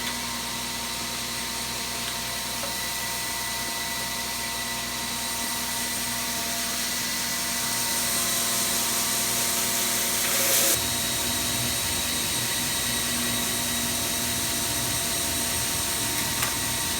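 A power sander grinds steadily and loudly as the final shape of a wooden bass guitar body is sanded. The droning, whirring noise is continuous, rises slightly in intensity partway through, and has no talk over it.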